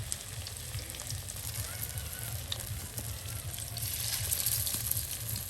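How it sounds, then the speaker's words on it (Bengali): Fritters (bora) frying in hot oil, a continuous close crackling sizzle that swells slightly toward the end, with a low steady hum underneath and no talk. "তারপরে তেলে তেলে ভেজে নিতে হবে"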